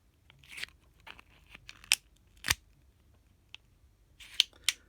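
Scissors snip through number 5 PP plastic in a series of close, crisp crunching cuts, several sharp clips spaced irregularly with brief pauses between them and no talking.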